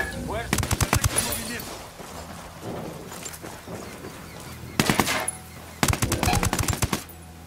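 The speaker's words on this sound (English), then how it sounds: "I'm opening fire." Bursts of rapid machine gun fire in the video game Ghost Recon Wildlands, loud, close and rattling, come in three separated volleys with quieter gaps and softer sounds between.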